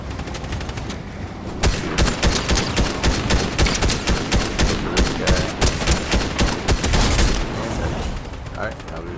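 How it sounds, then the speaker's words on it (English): An auto shotgun in the Fortnite video game, played on PS5, fires a rapid run of loud, punchy blasts in a steady rhythm for several seconds, close and dominant over background game sound. "grab the auto shotgun"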